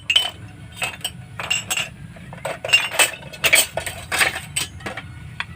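Metal utensil clinking and scraping against a container while a herbal oil mixture is stirred, a run of irregular light clinks and taps close by, with no talking.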